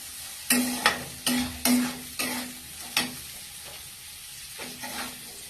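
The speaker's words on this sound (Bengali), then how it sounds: "আমার আলু ভাজা চলছে।" Boiled potatoes fry in a pan over a low to medium gas flame, with a spatula scraping and tossing them in quick repeated strokes above a soft continuous sizzle, close by and with no voices.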